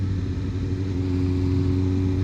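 A Yamaha MT motorcycle engine runs with a steady loud droning hum, constant and close with no pauses, no voices over it.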